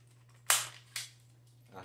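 A toy cap gun snaps out two sharp, close cracks about half a second apart, followed by a softer click, over a low electrical hum.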